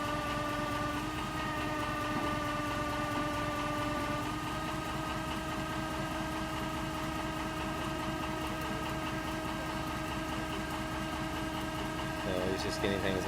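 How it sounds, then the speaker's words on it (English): A truck engine powering a 60-ton crane runs at a steady idle, with a continuous low drone and strong harmonic hum. It stays constant throughout, and a brief clatter comes near the end. "The engine that you can see with the chrome exhaust on is what's running now."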